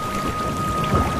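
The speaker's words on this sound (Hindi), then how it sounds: "बारिश की रफ्तार और बढ़ गई थी।" Heavy rain pours down with a low rumble of thunder in a cartoon sound effect for a Hindi ghost story, a dense, loud, continuous wash with no voices.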